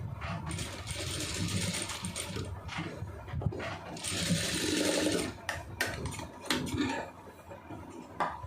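A sewing machine stitches a blouse armhole, its needle running in close, fast mechanical whirring bursts with short stops and clicks between runs.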